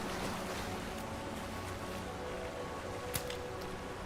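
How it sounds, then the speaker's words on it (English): Steady broadband rushing of a waterfall in the fantasy video game Avowed, a continuous wash of water noise with a brief small click near the end, no voices. "More waterfalls, yay!"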